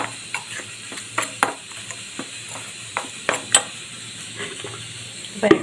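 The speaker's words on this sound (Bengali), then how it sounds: "শুকনো উপকরণগুলো আমি খুব ভালো করে মিশিয়ে নিচ্ছি।" Dry ingredients for a chop batter are mixed in a bowl, giving soft scraping and irregular light clinks and taps of the utensil over a faint steady background.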